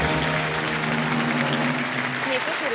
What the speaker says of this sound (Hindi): ताली बज गई